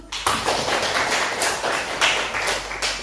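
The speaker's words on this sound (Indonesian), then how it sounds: "Boleh ditepuk tangan dulu." An audience at a school coaching session for academic supervision claps for Intan, a brisk, fairly dense burst of hands in a room, steady for about three seconds with no talk over it.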